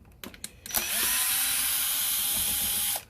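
A power driver spins out self-tapping plastic screws from a 36V lithium-ion lawn mower battery pack, with a few short clicks and then a loud, steady, high-pitched whir lasting about two seconds that cuts off cleanly, up close.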